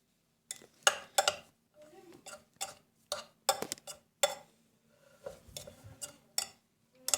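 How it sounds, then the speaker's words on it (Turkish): A spoon clinks and taps against a bowl while an egg-free mixture of crushed biscuit powder is stirred, giving irregular sharp ticks in short bursts with quiet gaps, close by. "Hepsini iyice bir karıştırıyoruz."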